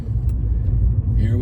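A 1997 Mercedes-Benz E320 W210 rolling along on its first drive, steady low engine and road rumble filling the short stretch, close and fairly loud, with a voice briefly over it.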